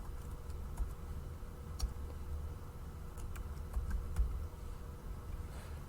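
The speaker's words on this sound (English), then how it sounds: "From here, simply start typing, hit enter" Typing on a computer keyboard while entering a bullet list in a word processor, with soft, sparse key taps and clicks scattered irregularly over a low background hum, quiet and close.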